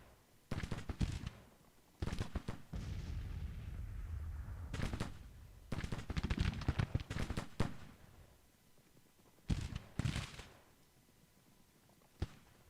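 Artillery and musket fire in a Civil War battle in the Grand Tactician strategy game, loud booming volleys and crackling bursts in irregular clusters with quieter gaps between.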